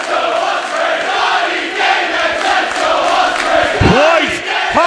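A packed crowd of Irish wrestling fans roars and cheers before a match at an OTT anniversary show, a loud, sustained wall of noise with rising shouts and whistles breaking through near the end.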